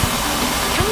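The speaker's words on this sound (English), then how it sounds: "That's the sound of the air coming out of the bellows." A steady airy hiss of compressed air escaping from a bus's suspension bellows as the bus lowers, broad and continuous, with a faint voice and low thumps underneath.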